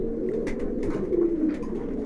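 Kashmiri khaki pigeons coo steadily inside a dim indoor loft, a close, continuous layer of low, throaty calls overlapping for the whole stretch with no voices.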